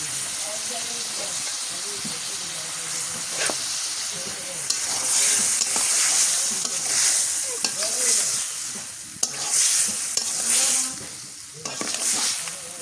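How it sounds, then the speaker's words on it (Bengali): Pogol river fish sautéing in spiced masala in a pan, a steady loud sizzle with bursts of crackling and repeated stirring scrapes, continuous and close throughout. "মাছ কষাইতে দিলাম, এদিকে কষানো হোক"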